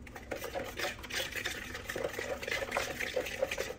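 Batter for a whole chicken roast being mixed in a bowl, a wet, steady stirring and squelching that continues evenly throughout at close range.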